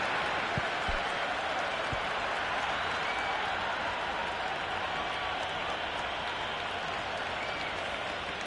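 A cheering stadium crowd in the Cricket 26 video game makes a broad, steady roar of massed voices and applause with no clear peaks, and a commentator's voice occasionally comes through under the noise.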